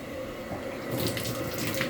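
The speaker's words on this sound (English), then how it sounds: "I'm going to turn the shower on" A shower in a house is turned on, and running water swells in midway through and continues as a steady, close spray.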